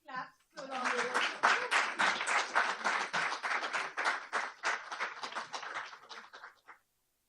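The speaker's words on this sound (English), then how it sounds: "I think we can have some claps along the way." Audience applause at an awards session, a dense patter of many hands clapping for several seconds before tapering off, with a brief voice at the start.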